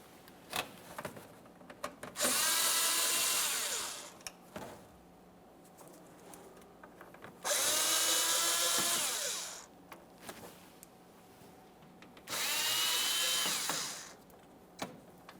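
Three separate bursts of a power drill whirring, each lasting about two seconds, as Phillips head screws are backed out of a plastic fog light cover on a 2014-2018 Mazda 3, with quiet clicks and handling noises between them.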